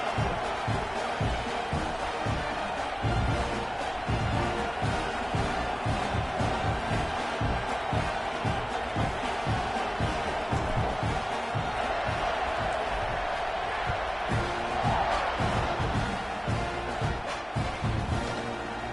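Stadium crowd in the College Football 26 video game, Arkansas Razorbacks at Texas A&M Aggies, roaring steadily and loudly at kickoff as a continuous dense wall of cheering throughout.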